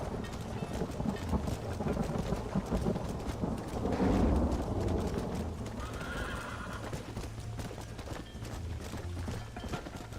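Horses in the Red Dead game gallop with rapid, loud clip-clop hoofbeats under a rumbling backdrop, and a whinny cuts through midway, all without speech.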